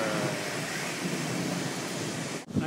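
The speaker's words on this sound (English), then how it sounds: "And cue thunder." Thunder rumbles through a hail storm outside a car with the window cracked, a steady broad roar of rain and hail mixed with low rolling thunder, loud and continuous, with no voices.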